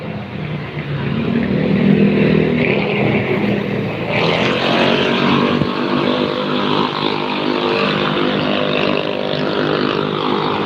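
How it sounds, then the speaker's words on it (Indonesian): Steady engine drone and road rumble heard from inside a moving Metro Permai bus, continuous and fairly loud throughout with no talking. "jadi ini bus Metro Permai."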